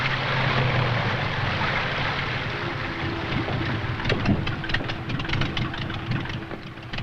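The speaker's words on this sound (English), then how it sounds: "our airboat continues racing eastward to the rendezvous with George Eddy" An airboat engine drones steadily as the boat races across a Florida swamp, with wind rushing over the microphone and a continuous near roar.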